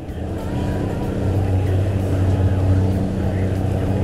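A center console motorboat runs across Biscayne Bay with a constant loud engine drone and hull and wind noise, steady and close throughout.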